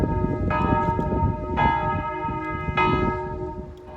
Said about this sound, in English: French villages all seem to have these bell towers that ring for a long time.